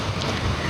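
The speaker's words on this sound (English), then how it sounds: "Rather windy, eh?" Strong wind blowing outdoors hits the microphone in a loud, continuous rumble with gusty buffeting, close and unbroken for the whole short moment.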